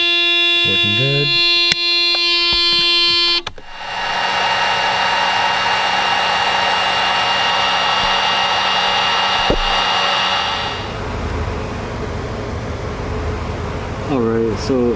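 A Mercedes door-open warning buzzer sounds as a steady electronic tone with harmonics for about three seconds, then gives way to a broad fan-like hiss and hum. Speech is heard briefly near the start and end.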